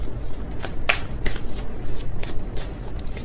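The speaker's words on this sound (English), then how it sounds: "That was kind of a sloppy shuffle" Tarot cards being shuffled by hand during a reading, a loose run of crisp riffling and snapping card bursts, close and fairly loud over a soft background hiss, with no talking.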